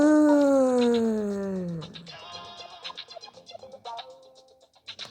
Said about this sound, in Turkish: Yani miyav miyav miyav miyav